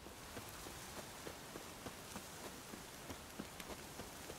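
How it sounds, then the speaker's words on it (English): Steady heavy rain in the video game The Witcher 3, a dense, even hiss of falling water with faint footsteps tapping rhythmically underneath, no voices. "I wish it rained this much here."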